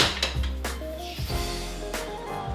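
Metal spoons and cutlery clatter and jingle as someone rummages through them, several sharp clinks and rattles over a low steady hum, close and fairly loud.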